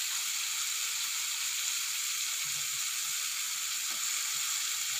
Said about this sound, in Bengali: ভাজা আলুগুলো দিয়ে দেব।